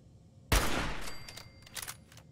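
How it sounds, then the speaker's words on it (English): Rifle gunfire in Fallout 4 survival mode: one loud, close shot with a sharp onset and a long echoing decay, followed by fainter clatter and a second smaller burst near the end. "Pretty strong, man, that gun."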